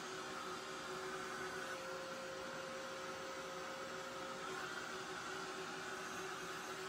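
A hair dryer blows in a steady, even whoosh with a constant tone throughout, drying paint between two coats on a small decorative box; no talk.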